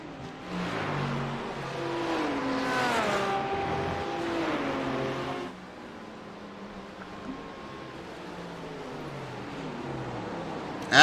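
A Porsche GT3 race car at Hockenheim passing on track, its engine note rising and falling through gear changes as it approaches and then recedes, with steady background track noise throughout.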